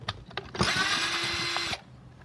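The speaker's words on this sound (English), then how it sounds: "So let's remove these two screws right here." A power driver whirs steadily for over a second while removing screws from the pump of a Bissell Revolution carpet cleaner, with a few clicks and knocks from handling before and after.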